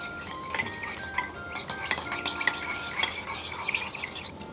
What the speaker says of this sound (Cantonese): 攪勻